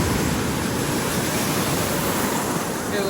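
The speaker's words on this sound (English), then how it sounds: "But them waves getting bigger and bigger." Ocean waves breaking on a beach make a dense, continuous roar of surf, loud and close throughout with no pauses, a wind-blown hiss mixed in.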